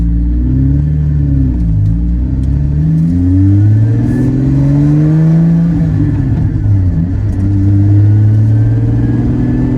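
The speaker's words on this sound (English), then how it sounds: "I can actually feather the accelerator pedal now, and the car just glides forward" Porsche GT4 engine running a Fabspeed 91-octane race tune, loud and close, with a deep rumbling note that rises and falls through smooth acceleration, engine pitch sweeping up and dropping back repeatedly.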